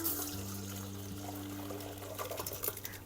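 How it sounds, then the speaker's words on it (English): Water strained off boiled potatoes, a soft steady pour and trickle into a sink with a low hum underneath, no talking. "I'm going to strain off the potatoes and then use the water that's left"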